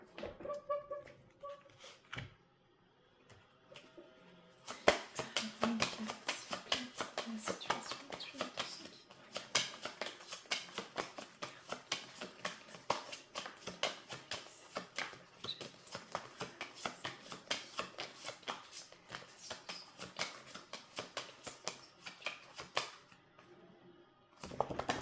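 Aboriginal Dreamtime oracle cards are shuffled and cut by hand in a long run of rapid, crisp papery riffles and flicks, close up, with brief handling sounds at the start and end.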